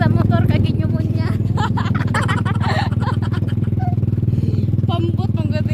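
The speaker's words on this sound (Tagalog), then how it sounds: "Pasensya na mo tingog sa motor" A motorcycle engine runs while riding on a trip toward a dam in the hills, a close, loud and steady rumbling drone heard throughout as people talk over it.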